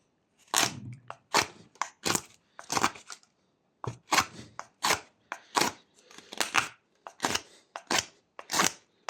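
A knife blade shaves wood while carving a simple reindeer, making a series of crisp, scraping cuts at an uneven rhythm, with a brief pause partway through. The cuts are close and fairly loud, and no one speaks.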